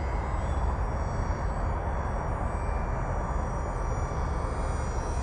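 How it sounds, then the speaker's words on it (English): A UMX Turbo Timber radio-controlled small model plane flies, its motor giving a steady, continuous whine and rush that holds an even loudness throughout, with no voices. "It's a small plane, so it is affected by wind"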